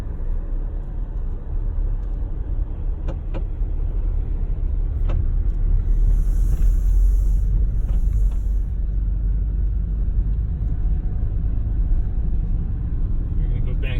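A car slowly turning around on a road beside a lake near Cooperstown, New York, giving a steady low engine and tyre rumble that holds through the whole stretch, with a few faint clicks on top.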